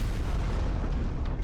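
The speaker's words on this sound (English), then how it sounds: "A Prussian cannonball strikes an ammunition wagon." A cannonball strikes an ammunition wagon in a battle reenactment, a dense, loud, rumbling blast that fills the whole moment with deep, sustained roar and no speech.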